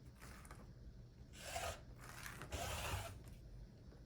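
Rotary cutter slicing quilt fabric strips along a straight edge, two or three soft rasping cuts with quiet handling noise in between, close and fairly faint.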